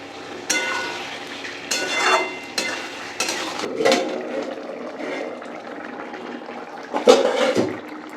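Lemon-marinated chicken with spices frying and being stirred in a pan: intermittent scraping and wet sizzling bursts over a low hiss, close, with several louder stirring strokes spaced a second or two apart.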